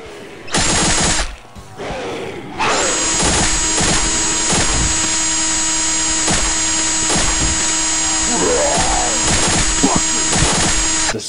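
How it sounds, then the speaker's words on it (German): A drill weapon in the Postal 2 mod Eternal Damnation grinds with a loud, steady mechanical whir that runs nearly unbroken for about eight seconds after a short start, with rhythmic clanking pulses on top. "Oh, ein Bohrer. Ja, jetzt ist es verbuggt. Der Bohrer, der ist ja mal voll sweet."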